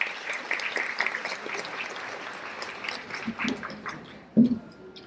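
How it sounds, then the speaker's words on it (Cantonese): Audience applause at a Buddhist society's sixtieth-anniversary vegetarian banquet, a moderate stretch of clapping from a gathered crowd that thins and tapers off toward the end. "依家用熱烈嘅掌聲，請佛教法相學會主席麥國豪先生上堂，同大家分享佢嘅心聲。"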